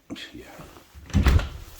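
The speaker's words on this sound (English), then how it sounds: "I'm going to close this door" A door fitted with a KABA Simplex 7000 series pushbutton lock is swung shut on its hinge side, ending in a solid close thump after quieter handling sounds, with a voice talking nearby.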